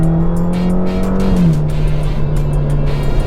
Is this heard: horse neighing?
no